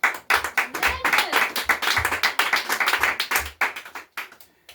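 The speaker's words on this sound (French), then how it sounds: "Donne une acclamation à Dieu." Congregation at a church service clapping in an uneven run of sharp, close hand claps, some bunched together, with a few pauses and a faint voice briefly heard under them.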